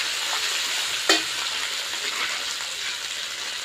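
Ingredients for a fish roe curry fry lightly in a pan with a steady, close hiss of sizzling oil and one sharp clink of a utensil partway through.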